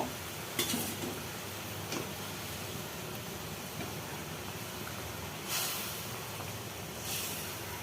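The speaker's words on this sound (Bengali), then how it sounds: "চিনিটা গলে আসলে আমরা বেগুনগুলো দিয়ে দিব" Eggplant pieces sizzle in a pan of melted sugar, giving a steady broadband hiss with a few scraping stir sounds and soft clinks.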